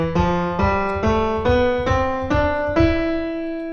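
A keyboard plays the white keys as a stepwise scale beginning on E, seven or so evenly spaced notes climbing one after another, clear and close with no talking.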